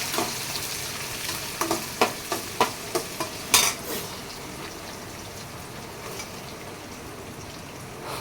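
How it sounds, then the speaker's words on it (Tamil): Garlic and onions sauté in a pan for a bitter gourd kuzhambu: a series of distinct spoon taps and scrapes in the first few seconds, then a softer steady sizzle alone. "பூண்டு வதங்கிடுச்சு வெங்காயம் ஆட் பண்ணிடுச்சு ரெண்டுத்தையும் மிக்ஸ் பண்ணி வதக்கி விட வேண்டியது"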